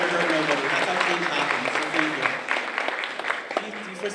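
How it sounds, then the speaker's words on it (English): Livestreamed school audience at St Augustine CHS claps steadily, a dense close wash of applause lasting a few seconds, with speech faintly mixed into the crowd noise. "That was a really good applause."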